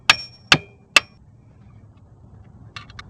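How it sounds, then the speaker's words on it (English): A hammer taps three times on the 17 mm oil drain bolt of a 1980-81 Honda CB750 Custom, sharp metallic clinks about half a second apart, followed later by a few faint lighter ticks. "Take a hammer and tap it."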